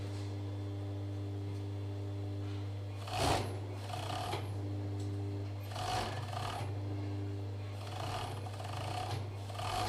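An overlocker sews the side seams of a T-shirt, a steady humming motor drone with periodic scraping, rasping bursts as the fabric feeds through, close by and without talk.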